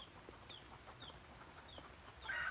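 Faint, scattered clucks from chickens at some distance, a little louder near the end, over a quiet background.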